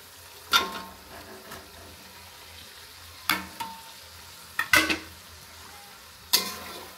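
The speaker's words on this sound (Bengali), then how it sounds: "পটলগুলো দিয়ে সুন্দরভাবে এভাবে মিক্সড করে নেব" Pointed gourd (potol) is stirred in a frying pan: a low steady sizzle runs underneath four sharp scraping clatters of the spatula against the pan, spaced a couple of seconds apart, close by and with no talking.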